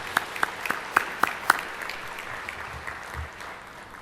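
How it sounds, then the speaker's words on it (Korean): An audience applauds a church choir in a worship service. It starts with a few sharp, separate claps, then settles into softer, scattered clapping that fades out. "우리 박수로 한번 격려해 드릴까요?"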